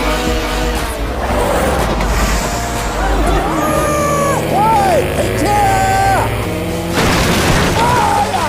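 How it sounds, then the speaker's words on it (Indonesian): A race car crashes in a film scene, with a loud, sustained booming rumble and bursts of impact over a background of crowd babble. "Sayangnya mobil balap Denan mengalami kecelakaan."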